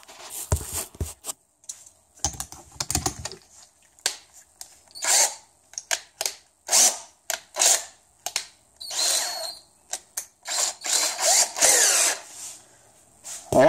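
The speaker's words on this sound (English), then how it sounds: "let's put it in the drill and see how it performs with the long bit" A power drill fitted with a long Dewalt torsion driver bit drives a screw in a series of short, sharp whirring bursts separated by pauses, growing busier and more frequent toward the end, close and fairly loud.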